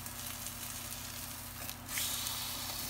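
An egg fries in a 12-inch Gotham ceramic non-stick stainless steel skillet, a close steady sizzle with a brief scrape as it is flipped, after which the frying swells louder.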